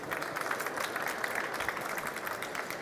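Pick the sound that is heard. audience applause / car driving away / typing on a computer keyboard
audience applause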